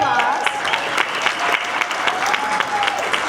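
Applause from an audience at a caucus program greeting a special guest, a dense steady clapping wash held at even loudness for the whole stretch, close and full.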